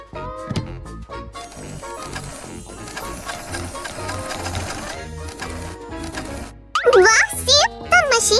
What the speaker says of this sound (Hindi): अब सिलाई का समय है।